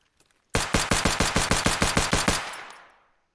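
Automatic weapon fire on the hideout shooting range in Escape From Tarkov: a rapid burst of about twelve loud, evenly spaced gunshots, close and sharp, ending with a fading echo tail.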